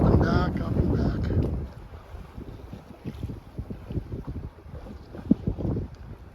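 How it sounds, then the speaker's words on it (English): A sailboat moving on a bay in light wind at about five knots, with heavy wind buffeting the microphone at first, then softer water splashes and lapping against the hull, plus a few faint thumps. "It's a nice, quiet 5-knot sail."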